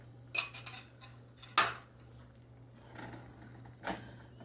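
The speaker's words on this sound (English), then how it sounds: "I'm just going to move this around so that the egg gets all dispersed all across the pan" A spatula scraping and clinking against a pan while two eggs are spread around for an omelet, giving a few sharp metallic taps and scrapes separated by quiet gaps.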